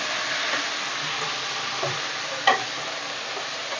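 Mint and coriander leaves sauté in a hot pan with a steady close sizzle and hiss, broken by a few brief stirring clicks.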